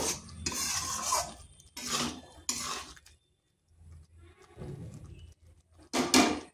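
Vegetarian papaya curry stirred with garam masala in a pan, several bursts of spoon scraping against metal with short pauses between, close and fairly quiet.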